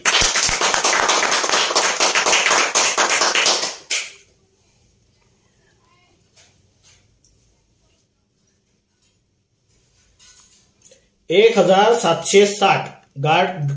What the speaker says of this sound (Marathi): एकदा टाळ्या वाजवा याच्यासाठी.